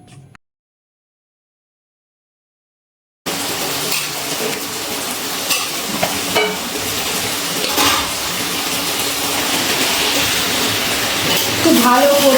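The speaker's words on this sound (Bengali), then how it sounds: "আগে থেকেই ম্যারিনেট করা মাংসটা এবারে দিয়ে দিচ্ছি।" Marinated duck meat for a duck curry hits a hot pan after a few seconds of silence, setting off a loud, dense, hissing sizzle that stays continuous to the end.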